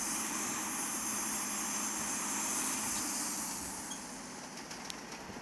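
Airliner engines idling and rumbling during taxi in the Infinite Flight simulator game, a steady broadband hum and whine that holds level and eases slightly toward the end, with no voices.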